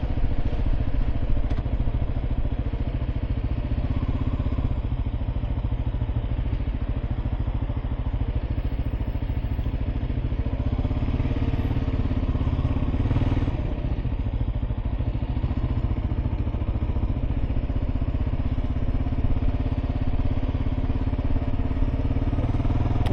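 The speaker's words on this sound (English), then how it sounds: "look at all those motorbikes" Dense, continuous rumble of motorbike engines and tuk-tuks on a busy street in northern Guatemala, a steady traffic drone with a passing swell near the middle.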